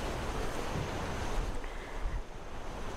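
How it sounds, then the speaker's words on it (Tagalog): Strong wind gusting against the microphone in a low, roaring rumble, with surf washing in the background; no one speaks. "And medyo mahangin po yung panahon ngayon."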